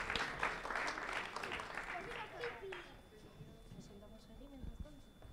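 Audience applause for a young robot team at a line-following robot competition, dense clapping for about three seconds that fades out, under an announcer's voice, with crowd chatter continuing afterward.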